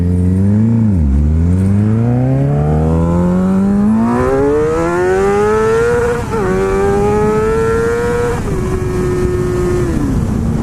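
A motorcycle rides along a road, its engine revving up through rising pitch sweeps, briefly dropping between gear shifts and then climbing again as it accelerates, loud and close with steady wind noise.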